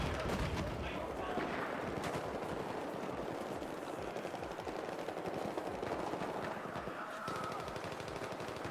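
Sniper rifle and other gunfire in a Battlefield 4 match, rapid automatic bursts and sharp reports rattling continuously at moderate distance under a busy battlefield din.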